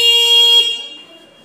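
A close, loud E Future electric scooter horn blares once as a steady bright tone, then quickly fades away, with no speech over it.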